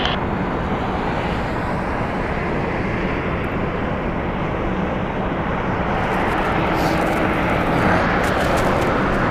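Broad steady jet engine roar from airliner departures at Las Vegas Harry Reid International Airport, loud and continuous throughout with a slight swell near the end.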